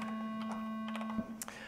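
A steady synthesized triangle wave tone holds at one pitch with bright overtones, alone and fairly loud, with a few faint clicks near the end.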